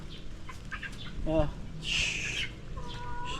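Rhode Island hens about six to seven months old, already laying, give a few short clucks and a brief higher squawk in a farmyard coop, close by and moderately loud, amid faint background sound.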